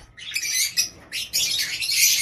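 Caged birds chirp and squawk in quick, bright bursts, several overlapping calls close by with brief pauses between flurries.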